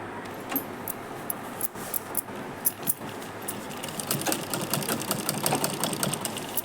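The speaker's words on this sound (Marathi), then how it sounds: "असं चौफेर शिवून घेते मी सगळं" A sewing machine stitches saree lace, running in a continuous rapid mechanical whir with light rattling clicks that grows busier and louder toward the end.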